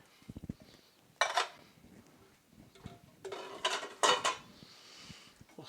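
Canned black and kidney beans are stirred into a pot, with bursts of metal spoon scraping and clanking against the pot between quieter pauses and a few light taps, close and moderately quiet.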